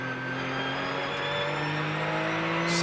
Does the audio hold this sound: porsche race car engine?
yes